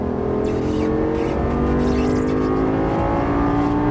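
A Lamborghini Gallardo Superleggera LP570-4 accelerates on a racetrack, its engine note rising as throttle is applied, a loud close-up drone heard from on board with no talking.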